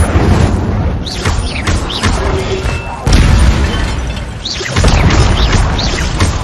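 Fiery spell blasts cast in Hogwarts Legacy, a magical video game, as a rolling series of loud booming bursts and crackling impacts over a dense, continuous game soundscape, with brief whooshing swells between hits.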